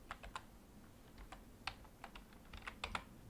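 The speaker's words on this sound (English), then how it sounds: "I'm pressing all kinds of buttons on the keyboard." Keys pressed in quick irregular bursts on a computer keyboard while trying out music software, close and fairly quiet, with no voices.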